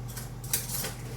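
A utensil scrapes and clinks against a pan while stirring melting butter and chocolate chips over very low heat, a short, quiet metallic stroke with a faint steady hum beneath.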